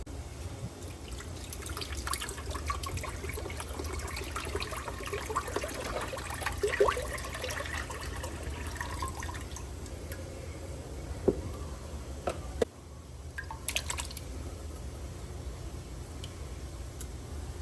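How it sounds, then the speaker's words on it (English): Vegetable stock, diced tomatoes and crushed tomatoes pour and splash into a crock pot, a continuous liquid trickle with a few sharp clunks and knocks near the end. "in the crock pot, we're gonna do vegetable stock, diced tomatoes, and a large container of crushed tomatoes"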